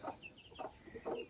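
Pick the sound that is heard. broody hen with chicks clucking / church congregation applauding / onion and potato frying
broody hen with chicks clucking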